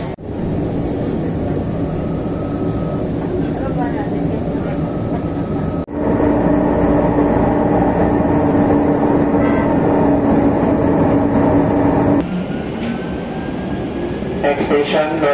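Riding a Manila MRT train toward Trinoma: a steady loud rumble of the moving rail car with air conditioning hum, wheel and track noise, a sharp shift in the drone partway through and faint voices under it.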